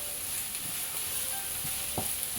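Tilapia fish frying gently in a pan hisses with a steady, close sizzle, broken by occasional soft pops and stirring clicks.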